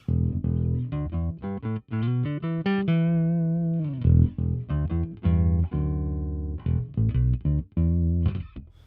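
A Bass VI low-tuned electric guitar on its neck pickup plays a deep, twangy riff of short plucked notes and a few sustained ones, clean and up close.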